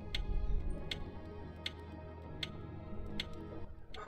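A clock ticks steadily inside the video game We Were Here Together, its regular, sharp clicks recurring about every three-quarters of a second over a dense, humming backdrop of game ambience.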